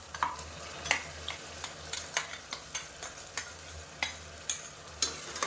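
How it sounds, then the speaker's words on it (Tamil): Ground cashew, shallot and ginger-garlic paste are sautéed in a pan while being stirred, giving a quiet, steady sizzle broken by repeated scraping strokes of the spoon, with no voices. "சேர்த்துட்டு பச்சை வாசனை போகிற அளவுக்கு வதக்கி விட்டுக்கலாம்."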